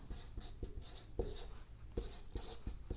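Chalk or marker writing on a classroom board, a steady run of short scratchy strokes with brief pauses between them, close and alone with no voices.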